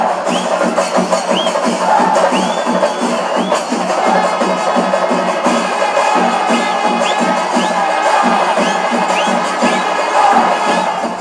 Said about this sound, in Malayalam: കാണികളായെത്തിയ ആയിരങ്ങൾ ആർപ്പുവിളി മുഴക്കി